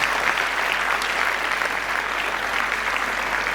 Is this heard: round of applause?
yes